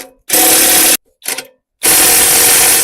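An impact wrench removing a crusty bolt fires in loud, close bursts: a sustained rattling hammer, a short stuttering blip, then another long burst, with silent gaps between.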